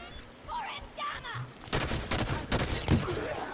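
Bursts of automatic gunfire from the video game Halo 5: Guardians crackle in a dense volley after a quieter stretch, with voices talking over the shooting.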